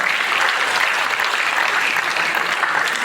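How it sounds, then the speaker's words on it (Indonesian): Sustained applause from a crowd at a university event, dense clapping at an even level for a few seconds. "Kita berikan tepuk tangan Bapak Ibu semuanya,"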